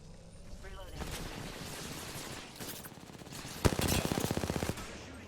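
Rapid automatic gunfire from Apex Legends rattles in bursts, building to a dense, loud volley near the end over game ambience, with a voice speaking briefly.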